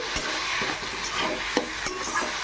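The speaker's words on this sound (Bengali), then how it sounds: "এবারে ভেজে রাখা চিংড়ি মাছ এতে দিয়ে দেব এবার একটু নেড়ে চেড়ে নিলেই" Fried prawns are stirred into cooked bottle gourd in a pan, a close sizzling hiss overlaid with repeated scraping stirs of the spatula at an irregular pace, no voices.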